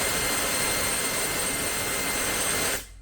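A Sabrent BLOWzer X6 jet-powered electric air duster runs with a steady, loud, high-pitched whooshing roar, held for nearly three seconds before cutting off abruptly into quiet.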